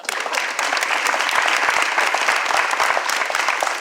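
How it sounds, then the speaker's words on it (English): A studio audience claps in a brisk, dense round of applause behind the scenes of a Chicago television talk program, many hands close and loud, sustained evenly for a few seconds. "Another round of applause"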